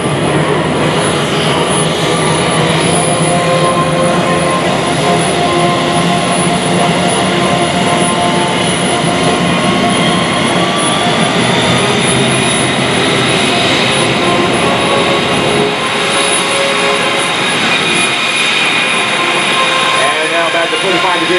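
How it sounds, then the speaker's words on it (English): A Tucano turboprop aircraft's engine roaring steadily and loudly through an aerobatic loop and snap roll at an air force base airshow, with the pitch shifting as it maneuvers and an announcer talking over it. "as he gets to the top of the loop, he's going to snap the aircraft at the top"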